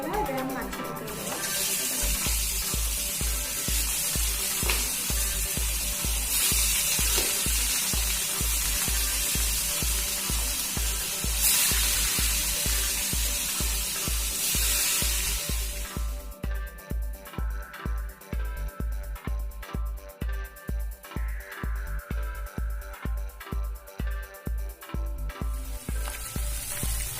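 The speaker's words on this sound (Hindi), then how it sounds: "तेल हम ताती गला। एबे हम माछ पकई देबा।" Fish sizzling in hot oil in a pan while cooking an Odia-style fish curry, a loud steady frying hiss with rhythmic crackles that turn into sharper spattering pops later on.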